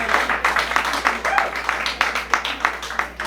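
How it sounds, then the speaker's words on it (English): Scattered applause from an audience at a Waco open mic night, with irregular claps and a few voices mixed in, moderately loud in a small room. "So give a round of applause for all the performers that went up"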